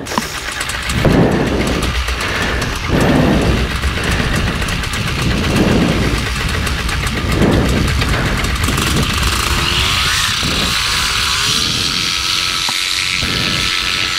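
A light aircraft's piston engine drones steadily and fairly loud during climb-out along the Jurassic coastline, with rhythmic swells in the low rumble and heavy wind noise throughout.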